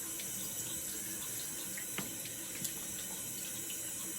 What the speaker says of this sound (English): cold water rinse here